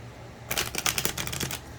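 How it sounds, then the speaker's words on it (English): Tarot card deck being cut and shuffled, a close, crisp burst of riffling card flicks that starts suddenly and rattles steadily for about a second before stopping, with no talking. "I'm gonna cut the deck in half and shuffle."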